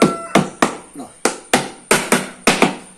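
Nails hammered into a wooden stingless bee hive box, about a dozen sharp, close knocks at an uneven pace, each ringing briefly.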